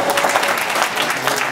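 An audience at a Raseiniai municipal award ceremony claps in sustained, even applause, a dense indoor crowd sound throughout.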